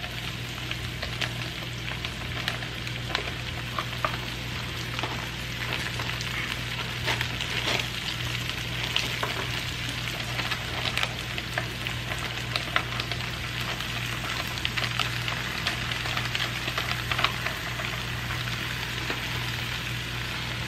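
Cauliflower mixture with Italian seasoning frying on high heat in a pan, a steady broadband sizzle with crackling pops running continuously and evenly throughout, no talking.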